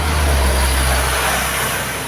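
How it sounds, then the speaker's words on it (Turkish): Buses drive past on a street, a loud, close engine rumble and road roar filling the whole moment, no speech. "otobüsler gidiyor"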